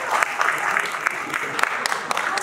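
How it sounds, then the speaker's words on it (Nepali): An audience claps steadily and fairly loudly at a public event in Nepal, a dense, continuous patter of many hands with no voices over it. "अभिनन्दन गर्नुहोस्, ताली बजाउ।"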